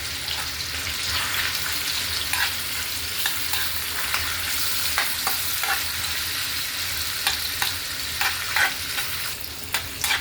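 Garlic and ginger fry in hot oil for Chicken Bicol Express, with a continuous close sizzle broken by repeated sharp scrapes and clicks of stirring.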